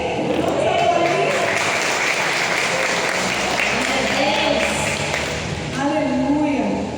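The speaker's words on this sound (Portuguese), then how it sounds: "eu ia pedir um aplauso ao Espírito Santo, amém? Vamos aplaudir?" A church congregation applauds during an evening service, steady clapping from many hands filling the hall while voices call out over it.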